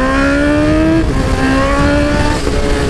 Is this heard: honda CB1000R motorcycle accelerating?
yes